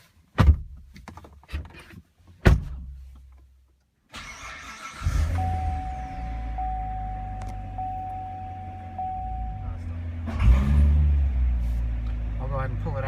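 Corvette Stingray with an 8-speed automatic: several door thunks at first, then the engine starts and settles into a steady low rumble that swells near the end, while a person talks over it.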